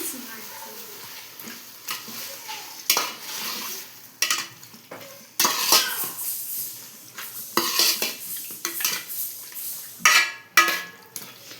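Onion and ginger-garlic paste stirred in a pan for chicken liver gravy, with repeated scraping spoon strokes and metallic clinks in irregular bursts, a soft sizzle underneath, and a voice talking between strokes.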